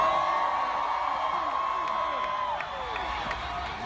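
A live comedy show audience in New York cheers and whoops, a broad crowd roar with scattered yells that swells at first and then slowly fades, with talking heard under it.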